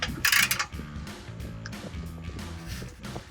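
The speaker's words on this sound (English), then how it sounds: "we're just gonna take a socket wrench and we're just gonna double check how tight this is" A socket wrench tightens an exhaust clamp on a Flowmaster Outlaw Extreme single exhaust fitted to a Chevrolet Silverado 1500: rapid ratcheting clicks up close after a short, louder clatter at the start.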